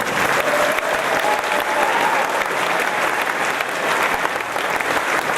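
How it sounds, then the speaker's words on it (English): Dense, steady applause from a crowd at a furry convention pawpet show, sustained and loud throughout, with a faint cheer or whistle early on. "big round of applause for these two"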